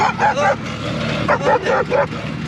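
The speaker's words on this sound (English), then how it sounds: "Dogs running up on us, Paddy." Several close dogs bark and yip in quick bursts, rapid and excited, with a whimpering edge between barks.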